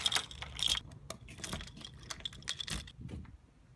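Keys jangle and clink in a few quick, irregular bursts close by, with bright metallic rattles separated by brief pauses.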